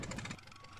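A farm vehicle's engine in Farmers Dynasty drones steadily at a low, quiet idle-like hum while it drives to the field, with no voices.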